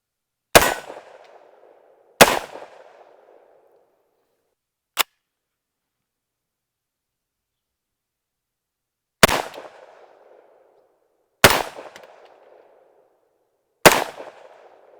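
Tommybuilt T7, an MP7 clone, fires six sharp, loud single shots spaced irregularly, each with a short ringing decay. One shot is much briefer than the rest, followed by a long silent gap before three more reports.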